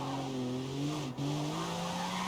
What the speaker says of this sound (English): This thing is an absolute beast of a car to slide, man.